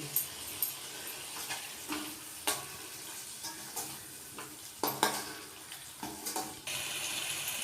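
Kohlrabi masala stirred and frying in a pan: repeated scraping strokes of a spoon against the metal over a steady low sizzle, with no voices.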